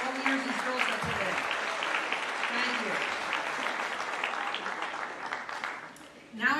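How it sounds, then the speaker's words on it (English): Applause from a school awards assembly crowd honoring cheerleaders: a steady wash of clapping fills the hall, with a speaker's voice over the start, tapering slightly before a louder thump at the end. "If we can have a big round of applause for all the years these girls have put"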